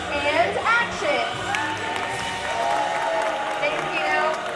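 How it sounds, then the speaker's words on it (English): Audience applause and cheering from a theatre crowd on The Great Movie Ride at Disney's Hollywood Studios, a steady wash of clapping mixed with voices and bright music throughout. "When I yell action, don't forget the thunderous applause for yours truly."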